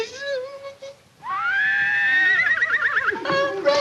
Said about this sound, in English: He was such a nice horse